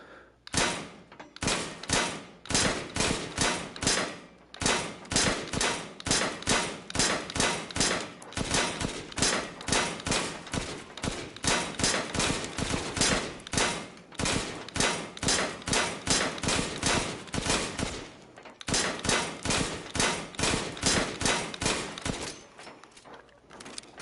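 Gunfire at a shooting range inside a VR video game: dense, rapid volleys of loud shots that run almost without a break for the whole stretch, with only a few brief gaps.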